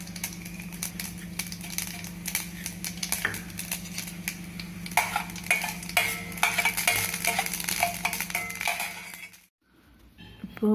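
Urad dal fries in coconut oil in a pan, giving a continuous close sizzle with stirring scrapes and clinks. The sound stops abruptly near the end.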